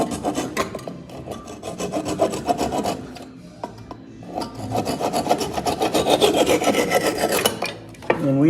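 Wood being trimmed off a freshly hung axe with a rasping, rubbing tool, heard in close repeated strokes broken by short pauses.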